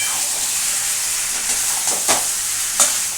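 Water poured into a hot pan of masala and potatoes for egg potato curry gives a continuous loud sizzling hiss. A few sharp spoon scrapes and stirring strokes come near the end.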